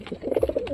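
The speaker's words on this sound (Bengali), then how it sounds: "খুব সুন্দর ডাকাডাকি করে" A small pigeon from a newly brought home pair gives a single short, close, throaty coo that wavers briefly, loud and alone without any talk.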